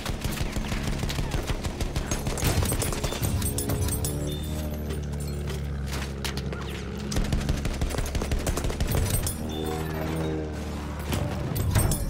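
Gunfire in a video game shooter: rapid clusters of shots and automatic bursts at moderate level, recurring through the clip with low droning tones of the game underneath.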